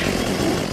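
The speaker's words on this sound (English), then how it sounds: "Use the chainsaw, yeah." Chainsaw running in the survival video game Unturned, a steady buzzing motor drone that stays loud and even throughout the short stretch, with no talk over it.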